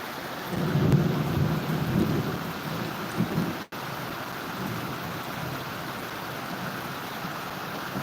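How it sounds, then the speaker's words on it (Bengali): Sudden rain falling outdoors beside guava and soursop trees, a steady broadband hiss of rainfall with a deeper rumbling swell in the first few seconds, continuing evenly after a brief dropout. "হঠাৎ করে বৃষ্টি আসলো"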